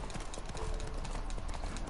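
Horse hooves clip-clop at a steady walking pace in The Witcher 3 game, a continuous rhythmic patter mixed in with dense game ambience and low background sound.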